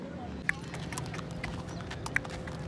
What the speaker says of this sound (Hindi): घोड़े की सवारी करने का अपना ही मज़ा है।